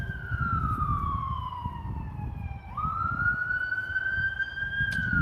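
Police car siren wailing in a long, steady sweep that dips and rises again as the vehicle passes at night, fairly close, over a low rumble of road traffic.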